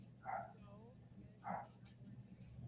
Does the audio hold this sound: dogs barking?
yes